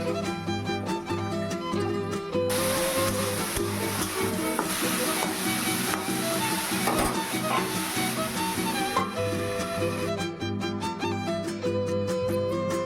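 Beans, carrot and capsicum frying in a home kitchen pan give a steady broadband sizzle that swells through the middle, heard under continuous background music with no talking.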